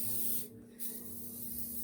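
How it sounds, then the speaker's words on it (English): Cooking spray can hissing briefly into a lasagna pan, a short soft spray burst with a weak, sputtering stream from a nearly empty can, alone at close range. "That's not really spraying very well."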